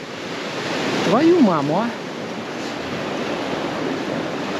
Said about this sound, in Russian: И вроде так тихонечко и подло подошла волна.